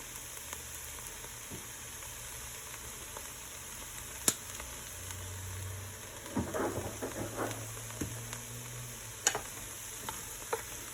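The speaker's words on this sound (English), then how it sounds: "Get that seasoning mixed in." Applewood rub seasoning is stirred into cowboy baked beans in a pot, soft scraping strokes and a low bubbling simmer with a couple of sharp clicks, quiet and without talk.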